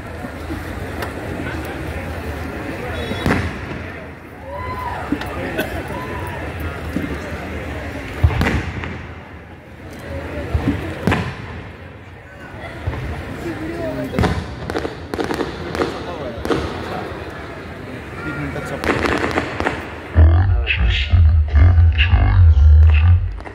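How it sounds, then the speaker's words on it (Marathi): Firecrackers go off in sharp, irregular bangs, some loud and close, over a busy background of voices and crowd noise from a seated crowd at an event in Sawantwadi. "फटाके चालू राहतील 5 मिनिटं।"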